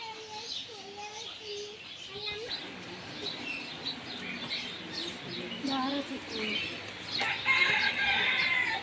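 Chickens and a rooster at a zoo in Oman cluck and call repeatedly at a moderate distance, mixed with chirping birds and background voices of people and children.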